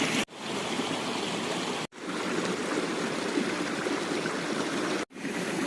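A small river, the Sungai Kendil, flows steadily with a continuous close rushing and babbling of water, briefly cut three times, with no voices.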